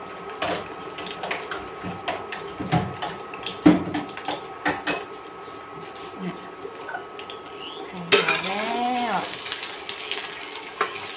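Shallot-studded beaten egg sizzles in a hot pan over high heat, frying steadily at moderate volume with scattered clinks and scrapes, then a sharper burst of spitting sizzle near the end.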